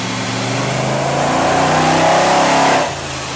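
A car engine fitted with an MSD ignition system and carburetor revs hard on a dyno at Westech Automotive, a loud, close, rising roar that holds and then drops off sharply near the end.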